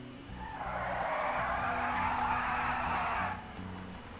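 Obey I-Wagen electric car in GTA Online picking up speed, a loud broad whooshing roar with tire-like hiss that holds steady for about three seconds, then drops off sharply.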